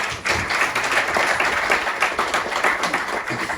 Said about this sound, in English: And the clap for him.